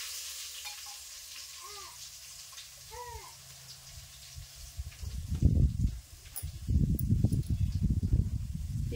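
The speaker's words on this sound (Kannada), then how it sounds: "ಬೆಳ್ಳುಳ್ಳಿ ಒಂದು ಸ್ವಲ್ಪ ಗೋಲ್ಡನ್ ಕಲರ್ ಬರೋಂಗ ಫ್ರೈ ಆಗ್ಬೇಕ್ರಿ." Garlic frying in oil with cumin, a soft hiss that swells into louder crackling sizzle and stirring scrapes in the second half, with faint background sounds early on.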